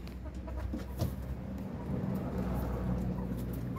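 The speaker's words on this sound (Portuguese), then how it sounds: "só ficaram esses dois galos, esses dois frangos" Roosters and young chickens cluck softly in a backyard poultry pen, intermittent low clucks and calls over a steady outdoor background hum, fairly faint and without talk.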